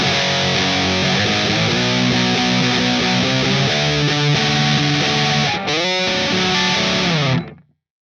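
Loud, dense distorted electric guitar plays the pre-chorus with its sliding fill, ringing steadily and alone before cutting off abruptly at the end.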